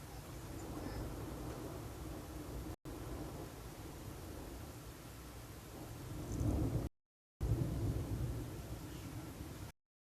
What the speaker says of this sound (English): Oh no, it's thundering.